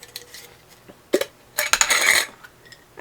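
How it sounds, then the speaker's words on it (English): Raisins, about two tablespoons, dropped into a bowl of cream of wheat, landing as a few scattered soft ticks and then a denser clattering patter of small pieces, close by and alone. "I put about 2 tablespoons of raisins into my cream of wheat"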